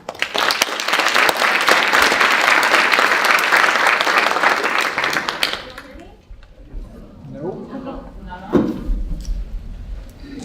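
An audience at a lecture applauds to welcome the speaker, steady loud clapping for about five seconds before fading, followed by shuffling and a few thumps as the lecturer takes the podium.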